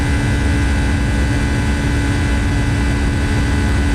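A Boeing 757 cargo jet climbing out in the X-Plane 12 flight simulator makes a loud, steady engine roar with a constant whine, unbroken throughout.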